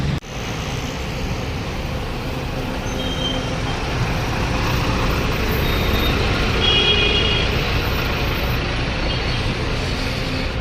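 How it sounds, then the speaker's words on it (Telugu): A Volvo AC sleeper bus pulling in at a stop, heard as a continuous broad engine and road rumble with a steady low drone throughout, close and fairly loud, with no speech. "ఇప్పుడే మన బస్సు వచ్చింది."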